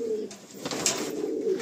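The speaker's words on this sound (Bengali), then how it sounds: "দেখি একটু পায়রাটা দেখি" A pigeon in a loft coos close by, one soft throaty call swelling and fading over about a second and a half, with faint background noise and no talk.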